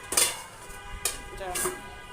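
A few metallic clinks of a lid settling onto a cooking pan, two or three quick knocks spread over a couple of seconds, close by.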